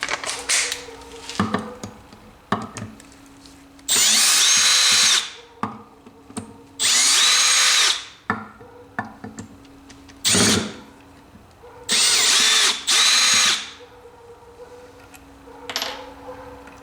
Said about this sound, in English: So we are going to go back to the screwdriver and take all of them off.